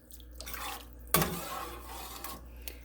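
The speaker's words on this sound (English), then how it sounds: "I'm going to stir that." A spoon stirs deer chili in a cooking pot, giving soft scraping and liquid sloshing with one sharp clink of utensil against the pot, close and alone.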